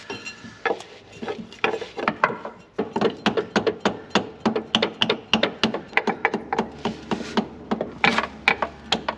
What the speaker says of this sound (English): You're probably gonna have to hammer that.